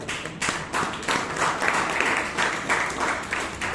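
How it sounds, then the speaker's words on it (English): A room full of people clapping at a Toastmasters meeting in Bangalore, steady and fairly loud, with scattered claps rising and falling over a few seconds. "let us give one more round of applause"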